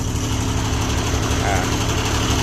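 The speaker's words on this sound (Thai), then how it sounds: "เอาลองเชื่อมดู เร่งเครื่องหน่อย" A three-cylinder diesel engine on an old Japanese welding generator runs steadily with a low, throbbing drone, loud and close, holding an even pace throughout.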